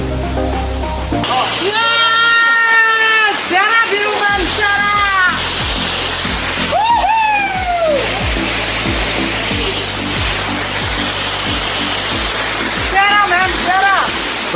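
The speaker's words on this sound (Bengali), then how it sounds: "সব যেন ধুয়ে নিয়ে গেল সেই পাহাড়ি ঝর্নার জল" Suptadhara mountain waterfall in Chittagong roaring as a loud, steady wash of falling water, with a voice and musical melody layered over it throughout.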